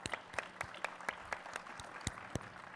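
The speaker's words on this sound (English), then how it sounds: "Let's give Jamila another round of applause for her great speech" Sparse applause from a conference audience at CPAC 2015 for a speaker named Jamila, a modest scattering of distinct claps over 3 seconds, fairly quiet and distant.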